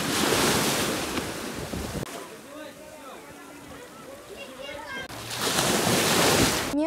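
Sea waves breaking on the shore at Tuapse, loud washes of surf at the start and end with a quieter stretch between, wind buffeting the microphone and faint voices in the background.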